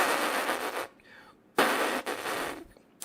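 A trumpet player buzzes the lips by squeezing them together, making two harsh, raspy bursts of about a second each, close and fairly loud, with a short pause between them.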